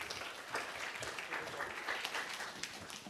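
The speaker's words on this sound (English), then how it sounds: "Big round of applause." An audience applauds as a panel is invited to the stage, a soft, continuous patter of many hands clapping, heard faint and somewhat distant.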